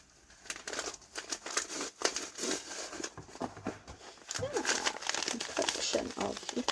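Little paper envelopes and bags crinkle and rustle as they are handled and unpacked, a steady close run of papery crackles, with soft talking mixed in.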